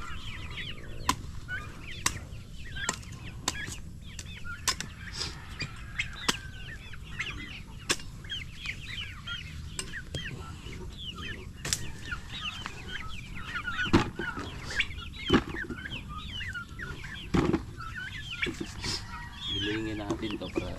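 Chickens cluck and call in repeated short bursts at moderate distance on a farm, with occasional wing flaps and sharp knocks, while people talk intermittently.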